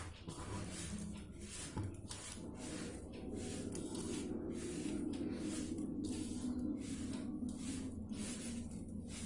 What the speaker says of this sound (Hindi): तो हम सारा गुड़ और तिल को एक समान कर लेते हैं मिक्स करके